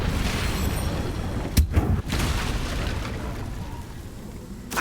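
A Confringo blasting spell goes off in Hogwarts Legacy: a sudden booming burst of an explosion over a dense, continuous wash of game noise, with a second, smaller thump shortly after.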